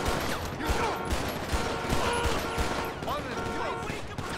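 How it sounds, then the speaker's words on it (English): Gang members in GTA 5 open fire, producing scattered gunshots and clattering bursts over busy game noise, fairly steady and mid-level, with some background voices mixed in. "Oh, this guy decided to start shooting."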